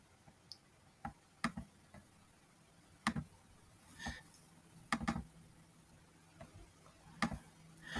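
A computer mouse gives faint, crisp clicks, some in quick pairs like double-clicks, scattered irregularly across a quiet room with no talking.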